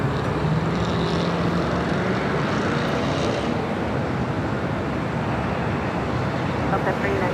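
A Boeing 737-900ER takes off at LAX, a broad, steady jet roar that holds loud and even the whole way through, with radio voices faintly underneath.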